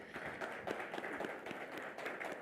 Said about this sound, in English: Let's give that a huge, huge round of applause.